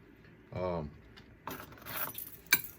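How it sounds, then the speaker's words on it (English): A bunch of car keys jangles close by in several metallic bursts, with a sharp clink near the end, after a brief voice at the start. "Car keys."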